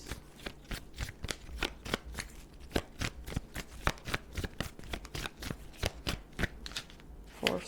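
A deck of tarot cards being shuffled by hand, producing a long run of quick, crisp riffling snaps and flutters in an irregular rhythm, close and clear with no talking.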